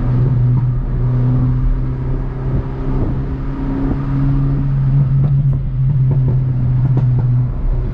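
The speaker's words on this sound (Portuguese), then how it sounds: "Vamos ver aí se nós conseguimos dar umas aceleradas com ele." A Renault Sandero RS engine is revved repeatedly, its loud, throaty exhaust note rising and falling over several blips with a steady rumble between them, heard up close with no talking.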